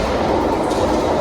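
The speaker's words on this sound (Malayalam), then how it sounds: "ആ ടണൽ വഴി ട്രെയിൻ ഇപ്പോൾ വരുന്നതായിരിക്കും." A train arriving through a tunnel at a London rail station, a brief, loud, dense rumble and roar heard close with no talking.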